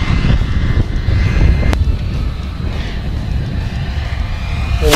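FMS Strega RC airplane with a stiff sparred foam wing flies overhead, its engine a steady loud drone mixed with wind buffeting on the microphone.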